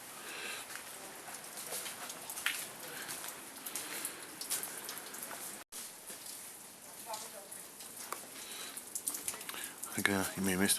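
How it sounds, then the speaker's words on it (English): Rain patters steadily near Petra in Jordan, a dense crackling hiss of drops hitting surfaces that continues throughout, with a brief dropout midway and louder rustling toward the end. "It's good to know it does rain in Jordan occasionally."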